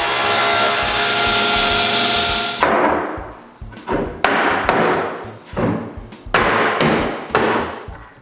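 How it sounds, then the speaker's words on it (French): Plywood pieces are cut for cabinet backs in a workshop. A steady, loud machine-saw whine runs for about two and a half seconds, then a series of sharp thumps and knocks of wood follow at irregular intervals. "je peux couper des bouts de contreplaqué pour les fonds"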